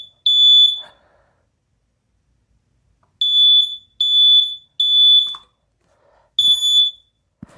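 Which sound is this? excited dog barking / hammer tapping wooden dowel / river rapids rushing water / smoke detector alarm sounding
smoke detector alarm sounding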